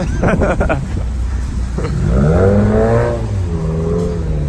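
Honda Civic EK with a B16A engine and a new exhaust, revving in a few quick blips before a longer rising rev that holds and fades, close up and loud, with some talk at the start.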